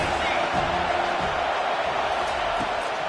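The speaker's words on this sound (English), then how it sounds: "This crowd trying to make life miserable for this offense." A football stadium crowd at an Ohio State versus USC game roars steadily, a dense, loud wash of noise that fills the space, with a play-by-play voice faintly beneath it.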